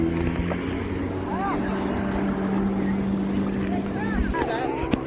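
Speedboats and other boats run on the water at a Maharashtra water-sports spot, giving a steady engine drone with wind and splashing, while voices talk faintly in the background.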